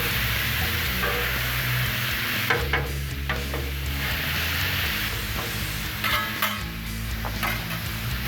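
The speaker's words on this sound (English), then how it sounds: "So now we're just gonna stir it up every now and then, kind of brown all this meat up." Ground meat and onions brown on a Blackstone griddle, a loud, dense sizzle close by, broken by scraping and tapping from a spatula stirring the mix.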